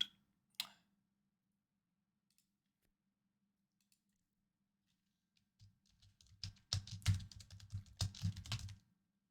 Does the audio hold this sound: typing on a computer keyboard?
yes